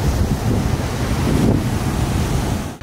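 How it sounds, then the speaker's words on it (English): Ocean surf crashing on a Venice beach under heavy wind buffeting the microphone, a loud, continuous roaring wash with no pauses, close and unaccompanied by voices. "these waves are like the craziest waves ever."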